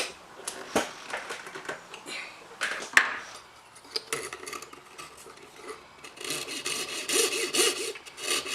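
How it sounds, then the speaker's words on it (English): A fine saw blade cuts out a decorative name inlay for a mandolin in a luthier's shop, making a series of short, rasping strokes with sharp clicks between them, then a longer run of quick back-and-forth sawing. "saw out whatever on the inside I want to saw out, move to the next hole"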